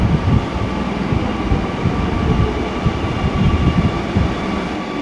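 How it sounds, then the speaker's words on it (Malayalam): Kochi metro train pulling into a station platform, a loud steady rumble and rolling hum close by, filling the whole moment without talk. "പ്ലാറ്റ്ഫോം 2-നടുത്തായിട്ടത് മെട്രോ ട്രെയിൻ വന്നിരിക്കുന്നു"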